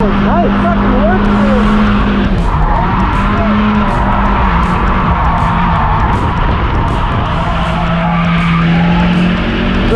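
A car drifting with a hydraulic handbrake, tires skidding and squealing in long loud smears over a steady engine drone, with voices talking over it.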